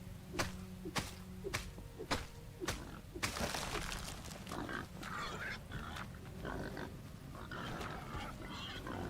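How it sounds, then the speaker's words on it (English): Pigs grunting in the survival video game Enshrouded, several short snorts and grunts over a low ambient bed, with sharp percussive hits early on and a busier wash of game noise later. "You little piggies can fuck off, okay, bro?"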